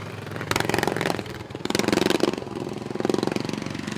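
Governed-class racing lawn mower engines buzzing and revving steadily during a heat race, a loud mid-pitched drone that swells and dips across the whole stretch with no talk.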